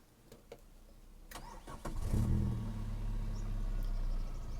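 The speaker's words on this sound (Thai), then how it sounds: "มาฟังเสียงเครื่องยนต์กันดีกว่าครับ" A 1995 Toyota with automatic transmission, running on LPG, cranks briefly and catches, then settles into a steady, fairly loud idle rumble after a few clicks and thumps.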